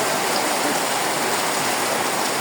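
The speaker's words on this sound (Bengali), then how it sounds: "আসার পথে বৃষ্টিতে আমরা ধরে ফেলে আমরা এখানে কিছু সময় আশ্রয় নেই" Rain falling steadily at Abeder Ghat during a flood, a dense even hiss of drops close by, without any talk.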